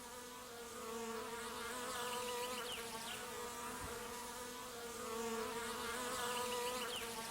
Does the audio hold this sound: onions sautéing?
no